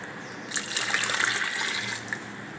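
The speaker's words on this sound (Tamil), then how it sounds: "நான் பால் எடுத்து வச்சுருக்கேன். அதை ஊற்றிக்கலாம்." Coconut milk poured into a curry simmering in an electric cooker, a steady liquid gush starting after a short quiet moment and running for about two seconds before tapering off.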